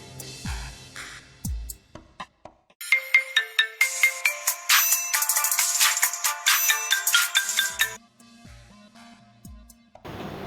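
A mobile phone ringtone rings loud and close. A bright, repeating electronic melody plays for several seconds, with other sounds before and after it.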